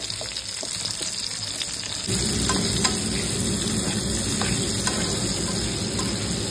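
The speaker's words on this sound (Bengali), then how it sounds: "সবার আগে পেঁয়াজটা দিচ্ছি, পেঁয়াজটা দিয়ে হালকা একটু নেড়ে নেওয়ার পর" Onion stirred and fried in a pan for chilli chicken, where a steady sizzle swells into a louder, denser frying roar a couple of seconds in, with faint utensil scrapes scattered through and no talking.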